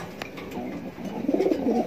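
Pigeons coo softly nearby, a few low, rolling throaty calls rising toward the end over faint background noise.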